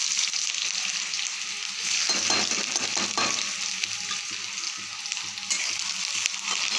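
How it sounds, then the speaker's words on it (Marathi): Onion hitting hot oil in a wok (kadhai) for a vegetable bhaji, a steady close sizzle and crackle with occasional stirring scrapes, no voices. "आता कढईमध्ये तेल घातलं तर यामध्ये कांदा घालते।"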